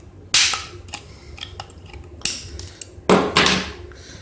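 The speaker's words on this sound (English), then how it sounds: "The first thing you need to do is to cut up like just an amount of plastic" Plastic being snipped into small pieces for melting down in acetone: three sharp, close cracking snaps spaced a second or two apart, with faint clicks and handling taps between them and no voices.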